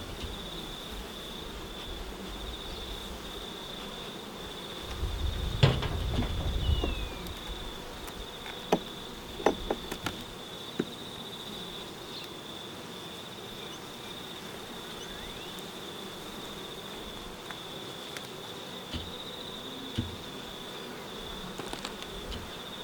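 Honey bees hum steadily around an opened winter hive, a faint continuous drone close by, with scattered handling clicks and a brief thump of movement near the start.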